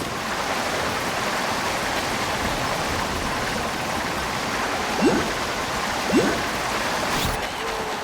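Steady rushing splash of water while surfing over waves in Genshin Impact, a dense continuous wash with a couple of brief louder splashes near the end.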